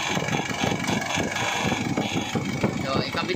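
A car engine idles with a turbo solenoid hooked up, giving a steady mid-pitched rumble with a faint vacuum hiss, heard close up while someone talks over it.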